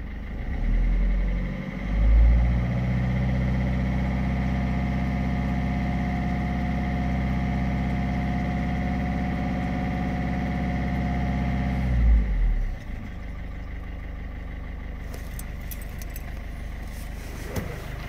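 A car engine idles steadily for about twelve seconds during a vinegar DPF cleaning, a low rumble that swells briefly near the start, then cuts off, leaving quiet rattles and faint clicks.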